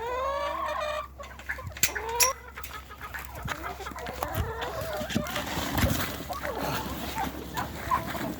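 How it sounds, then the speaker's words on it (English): Chickens cluck and squawk up close in a busy, scattered chorus while being fed spent grain, with rustling and pecking around them. "So we're taking this spent grain to the chickens."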